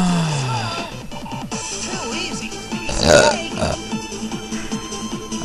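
A loud, rumbling burp comes from a man gaming, close to the microphone, in a scene filled with game sounds and other noises.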